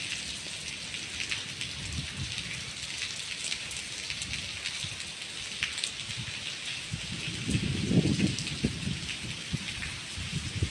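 Heavy rain pours steadily on an old hilltop temple pavilion, a dense, loud wash of drops with a heavier surge near the end, no voices.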